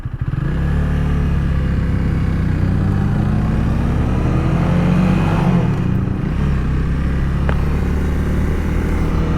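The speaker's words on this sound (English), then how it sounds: "I don't know what kind of motorcycle that was." A motorcycle passing on a road, heard over the steady engine and wind roar of a Honda Rebel 300 being ridden, its engine note rising and falling as it goes by at close range, loud and continuous.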